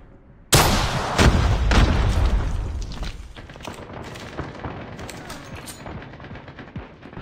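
A frag grenade blast in Call of Duty Mobile, a sudden loud boom followed by rapid bursts of gunfire and rumbling impacts that gradually taper off.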